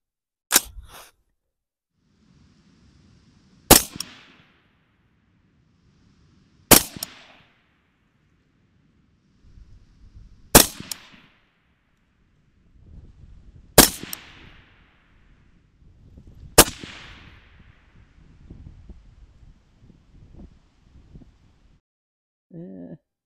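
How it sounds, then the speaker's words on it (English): An AR rifle firing 55 grain ammunition at a 100-yard line lets off six sharp, loud single shots spaced a few seconds apart, each with a short echoing tail and quiet handling noise between. "From here, let's fire the rifle up."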